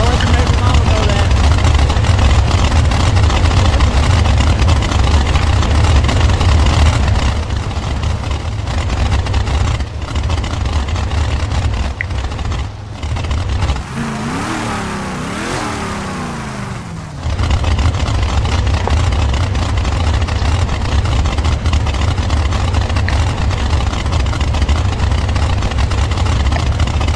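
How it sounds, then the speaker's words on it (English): A car engine from a Big Tire racing roleplay game idles with a steady low rumble, then rises in a brief rev in the middle before settling back, fairly loud and steady throughout. "I don't know where he went, but I heard a car."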